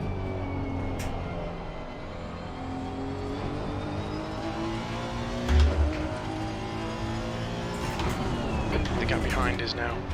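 A race car engine drones steadily in a racing video game, its pitch rising and falling through gear changes, with a voice talking over it throughout.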